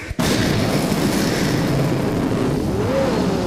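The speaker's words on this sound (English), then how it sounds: "It was an explosion." A sudden burst opens into a long, dense roaring rumble, like an explosion and its aftermath, sustained loudly for several seconds with a faint whistling tone near the end.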